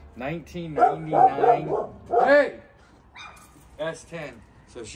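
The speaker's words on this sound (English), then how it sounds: "sorry about the dog, she's mad at the tamale guy and the dog across the street" A dog barks repeatedly in loud, close bursts, with a few whimpering yips between them. A person speaks over and around the barking.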